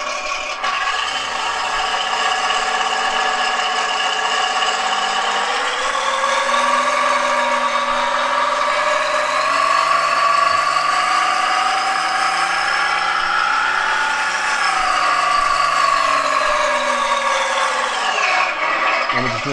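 A small electric motor whirs and hums steadily with rising and falling pitch as a 1/6 scale Armortek Hetzer Jagdpanzer 38 model tank drives, close and continuous with a faint rattle.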